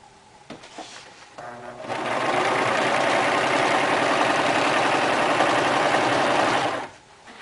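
A serger sewing machine stitches polyester hammock fabric, starting with a few brief bursts and then running in a loud, steady, continuous hum for about five seconds before stopping abruptly.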